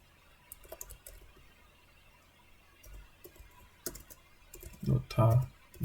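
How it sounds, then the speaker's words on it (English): Soft keyboard typing as a file name is entered on a computer, scattered light clicks under a quiet room tone, with a few louder thumps near the end. "This is the file name that I'm typing out."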